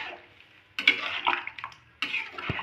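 Water poured into a pan of potato and cauliflower curry, two close splashy bursts of pouring separated by a quieter pause, with light clinks of the pan.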